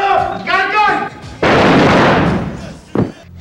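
A loud gunshot blast from a film trailer, a sudden broadband burst that rings out and decays over about a second, followed by a second shorter sharp crack; shouted dialogue comes just before it.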